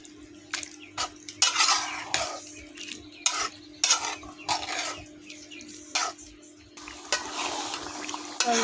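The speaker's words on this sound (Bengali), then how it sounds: "আমি ভালো করে নেড়ে দিচ্ছি," Potato curry cooked with goat fat being stirred in a pot, with repeated close scraping and clinking of a spoon against the metal in an uneven rhythm over a faint low hum, no talking.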